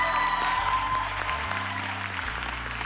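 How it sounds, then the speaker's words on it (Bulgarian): An audience applauds on a televised singing show: a steady dense burst of clapping fills the room under sustained low musical tones, fading slightly toward the end. "Аплодисменти!"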